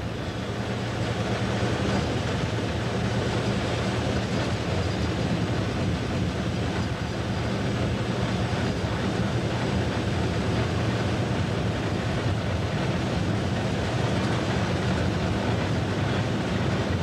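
A British Rail Class 47 diesel locomotive hauls a train from stone sidings toward Stockport, heard from the cab as a steady, loud engine drone with rumbling wheels on the track.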